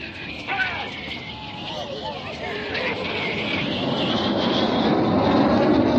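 Red Arrows jets perform a display at the 2016 Herne Bay airshow, a steady jet roar with shifting whine that grows gradually louder, while a commentator talks over it.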